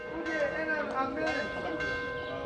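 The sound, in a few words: cathedral church bells ringing in Kormakiti, Cyprus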